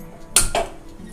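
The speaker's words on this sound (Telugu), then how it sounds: "గిన్నెను మనము స్టవ్ పైన పెట్టుకుందాము." A steamer pot holding veg momos, lid on, set down on a stove: one sharp metallic clank followed by a quieter second knock, brief and close, with no voices.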